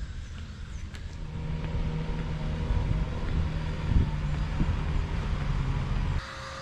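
A heavy front-wheel-drive campervan grinds uphill on wet ground, its engine a steady low drone heard from inside the cabin, with faint thumps and rattles, before the sound abruptly drops near the end.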